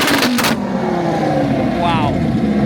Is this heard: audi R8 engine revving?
yes